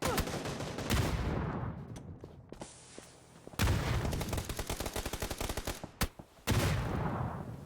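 Gunfire during a Counter-Strike-style competitive match: rapid bursts of shots and automatic fire in quick clusters, with brief lulls and an abrupt cut midway, loud and close.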